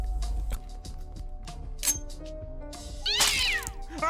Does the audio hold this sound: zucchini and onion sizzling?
no